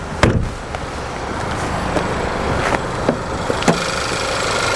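An Audi TT engine idles steadily nearby with an even low hum, punctuated by a few light clicks and taps.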